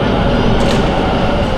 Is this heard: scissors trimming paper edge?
no